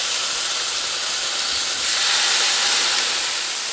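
Burger patties for an Oklahoma fried onion bacon double cheeseburger sizzle loudly on a hot griddle. The crackling hiss is dense and continuous, close up, with no talking.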